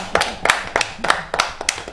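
A church congregation claps in praise of the Lord, several bursts of hand clapping in an uneven rhythm, close and lively, with no talk over it.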